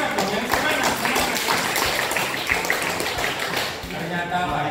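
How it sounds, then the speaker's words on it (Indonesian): Classroom of students clapping together during a lesson, dense continuous applause throughout with bright crackly texture. "Tepuk tangan."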